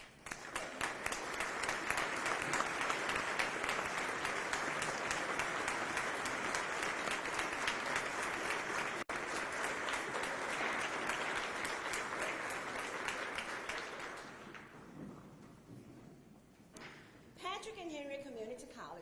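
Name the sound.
audience ovation applause at college inauguration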